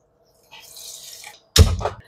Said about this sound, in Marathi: आता आपल्याला साखरच्या अर्ध म्हणजे पाऊण कप एवढं पाणी घालायचं आहे